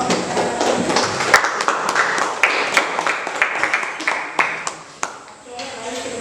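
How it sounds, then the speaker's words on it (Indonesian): Audience clapping for a presenting group in a classroom, a few seconds of loose, uneven claps with distinct individual hits, moderately close, with voices mixed in. "Tepuk tangan untuk kelompok"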